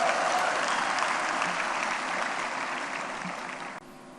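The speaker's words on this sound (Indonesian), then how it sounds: "Kita berikan tepuk tangan juga." Sustained applause from a large audience at a NasDem party national working meeting in Indonesia, dense and steady for several seconds before tapering and cutting off near the end.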